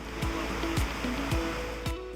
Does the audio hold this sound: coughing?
no